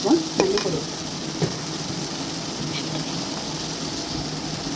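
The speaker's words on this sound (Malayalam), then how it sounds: "ഇതെല്ലാം കൂടി ഇട്ട് നന്നായിട്ടൊന്ന് ഇളക്കി ചൂടാക്കി കൊടുക്കാം" Garam masala, coriander and chili powders stirred and heated in a pan for egg curry, a soft steady sizzle with a few scraping stirs near the start, close and unaccompanied by talk.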